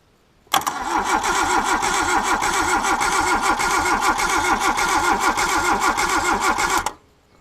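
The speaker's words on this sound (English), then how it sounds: "See if we can get anything out of the starter motor." A Suzuki SJ413 engine on a WWII Jeep replica build cranks briefly on the starter, catches, and runs loud and close for about six seconds with a slightly uneven lope before cutting off abruptly.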